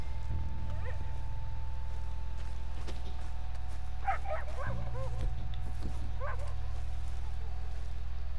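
A dog barks in Red Dead Redemption 2, several clustered yips and barks mid-clip and a couple more later, sitting over a constant low in-game ambient drone.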